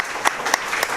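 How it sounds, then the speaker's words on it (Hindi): Children and adults at a church gathering clap together for a visiting guest, a loose, uneven patter with a few sharp louder claps standing out, fairly close and without talk. "सब ताली बजाइए,"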